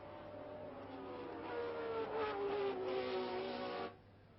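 A 1974 Formula 1 race car, Scheckter's, closes on Niki Lauda's car at the British Grand Prix, an engine note climbing and holding at high revs as it passes fairly close, then dropping away abruptly at the end.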